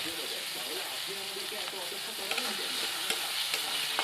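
Dried shrimp are stirred and fried in a pan for a shrimp shutki bhuna, a continuous close sizzle with light stirring scrapes and clicks while a voice talks faintly over it.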